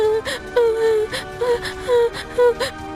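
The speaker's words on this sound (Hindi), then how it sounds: "तभी रोने की आवाज आने लगती है।" A cartoon voice cries in a Hindi moral story set by a mysterious tree in a dense forest, with repeated wavering wails and whimpers coming in short bursts, close and fairly loud with no talking.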